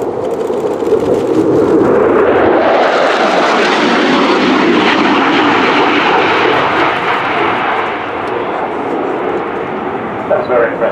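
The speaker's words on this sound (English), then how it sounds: "one with impressive performance here in a high-speed pass" A Polish Air Force MiG-29 Fulcrum jet makes a high-speed display pass at an airshow, a loud, continuous broadband jet roar that builds and sweeps higher in pitch, then slowly fades as it passes.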